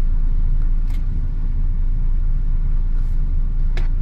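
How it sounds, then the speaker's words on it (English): A Tata Hexa SUV drives over an ice-covered path, producing a steady, loud low engine rumble and road noise close to the listener, with a few brief faint clicks and no speech. "So he's trying to run on the ice, vehicle wheels are not getting grip"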